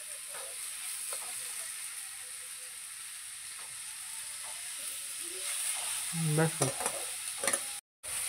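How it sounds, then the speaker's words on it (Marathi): Chopped onion and tomato sauté in a pan for a village-style egg curry, giving a faint, steady sizzle broken by scraping stirs that grow busier toward the end. Someone says a brief word near the close. "आता याला थोडंसं परतून द्यायचं आहे थोडं"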